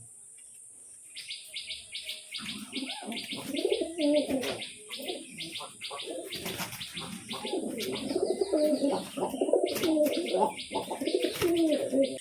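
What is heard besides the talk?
pigeons cooing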